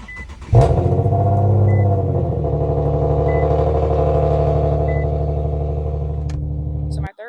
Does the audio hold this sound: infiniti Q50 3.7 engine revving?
yes